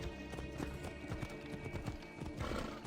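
A horse gallops in Assassin's Creed Odyssey, its hooves beating in a fast, continuous clip-clop rhythm over a dense game soundscape, with no speech.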